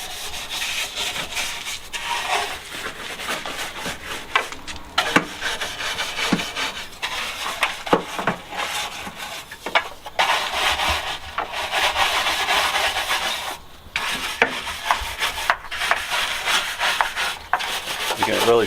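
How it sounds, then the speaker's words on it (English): A rag rubs degreaser off the surfaces of a car engine bay, making steady, close scrubbing and rubbing strokes that continue without pause throughout. "Just grab a rag and start wiping it."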